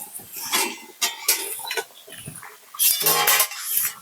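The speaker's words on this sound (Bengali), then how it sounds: "এবার আমি ঢাকনাটি খুলে নেব" A metal lid is lifted off a steel tiffin bowl of home-made mishti doi after steaming, giving several clattering metallic clinks and scrapes in bursts, close and fairly loud, with no talk.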